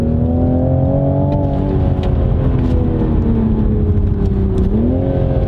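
A 2020 Toyota GR Supra's engine hums and revs steadily up close, its deep tone holding, sagging slightly and then lifting again, loud and without speech.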